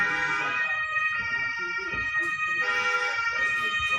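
An ambulance siren wails on a city street, a loud, steady, high-pitched tone rising and falling over traffic noise, with a few faint voices in the background.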